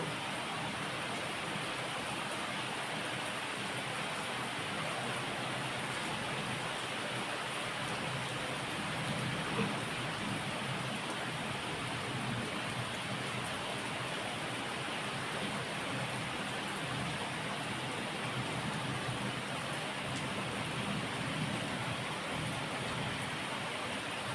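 Steady rain falls continuously, an even hiss of drops on surfaces, moderately loud with no voices.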